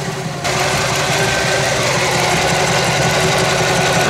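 A big-block V8 in a 1966 Chevy Biscayne idles at close range with a loud, steady, slightly lumpy rumble that holds without change after a brief moment at the start.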